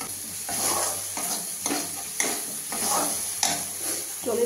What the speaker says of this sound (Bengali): এগুলো আমি দিয়ে এখন এটাকে ভালো করে নাড়াচ্ছি